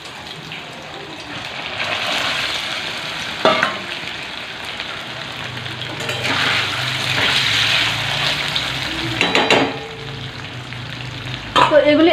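Paneer pieces drop into hot oil for chilli paneer and fry with a rising, crackling sizzle, punctuated by sharp clatters of pieces and a spoon, with brief talk toward the end.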